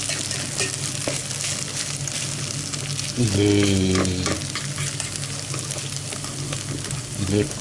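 Rice being stirred in a pan with olive oil gives a steady low sizzle and scraping, swelling into a louder stirring burst midway, then settling back to a continuous frying hiss.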